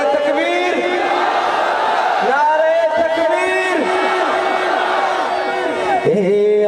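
A large crowd chants Allahu Akbar in unison in reply to a Nara-e-Takbir call, loud and sustained, with rising and falling voices and repeated drawn-out shouts filling the whole stretch.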